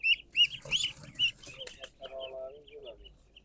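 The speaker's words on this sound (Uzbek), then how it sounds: "Bu Akdel zotli o'rdak" Fifteen-day-old Akdel breed ducklings at a duck farm give a run of high, thin peeps close by, then a few softer, lower calls, with no talking.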